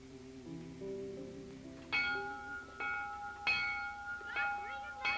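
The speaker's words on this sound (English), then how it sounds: "Stop ringing that bell, children." A bell rung by children sounds several clear, ringing strikes with long tails, following a sustained musical tone with faint low background hum.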